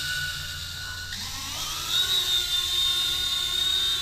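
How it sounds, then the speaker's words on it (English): An Inductrix 200 micro drone with hybrid ducted fans lifting off, a high, thin whine that climbs in pitch and holds steady, close and fairly loud. "it is a little bit noisy because it's essentially kind of like a hybrid ducted fan"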